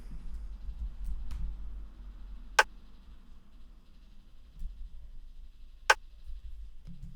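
Rim percussion pattern in a hip-hop type beat, sparse sharp clicks, two prominent ticks about three seconds apart over a quiet low bed, dry and close, no voices.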